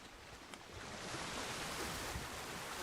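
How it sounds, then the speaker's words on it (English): Ocean waves in the video game Ark: Crystal Isles, a soft, distant surf wash that builds after the first second into a steady, quiet roar with some wind-like hiss. "Wow, this ocean is huge."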